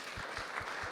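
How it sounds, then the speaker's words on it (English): Audience clapping for panelists at a session on AI in medical imaging and radiology, a brief, dense, steady patter of many hands. "A round of applause for being"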